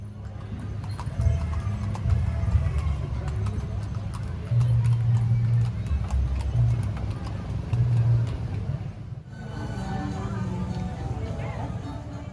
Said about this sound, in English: Horse carriages known as andong add a touch of tradition to the streets of Jogja.